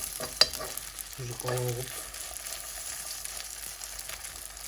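Potato patties sizzle and fry in a heated pan, giving a steady crackling hiss throughout with a brief bit of speech early on.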